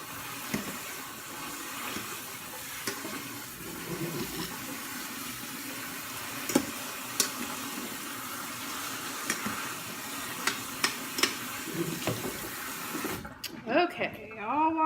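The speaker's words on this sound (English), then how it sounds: "just washing the noodles off" Tap water runs steadily into a big bowl as noodles are rinsed, a continuous splashing hiss with occasional clinks and stirring knocks, ending abruptly when the flow stops and a voice speaks.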